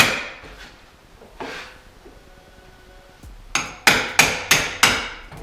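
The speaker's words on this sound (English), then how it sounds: "have a little thin punch, or maybe a very thin screwdriver, and just tap them through" Plastic clips on a 2001 Porsche Boxster 986 rear bumper being tapped through with a thin punch: a few scattered taps, then a quick run of five sharp, ringing hammer strikes close by.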